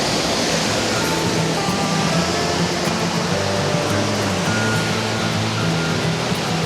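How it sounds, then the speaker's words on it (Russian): Hotel waterfall in Seattle, a steady loud rush of falling water that holds constant throughout, with a low rumbling undertone and no voices. "Они тут строили регулятор громкости водопада."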